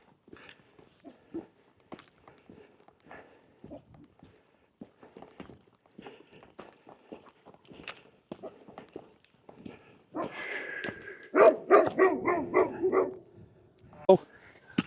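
A dog near a camping spot on a small island in the hills above Ullapool gives a few sharp barks amid scattered footsteps and rustling, louder toward the end, close by.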